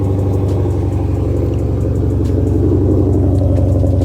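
A Ford Mustang GT500's engine rumbles close by, a deep, loud idle with a pulsing low throb that holds steady and swells slightly toward the end, with no voices.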